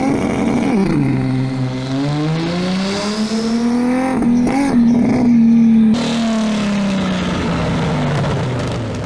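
A Saint Lucia-based Skyline sports car's 1300-horsepower engine revs loudly and close by, its pitch swinging up and down across several sustained surges with no voices.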